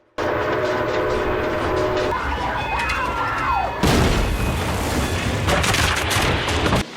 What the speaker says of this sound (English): It's your train!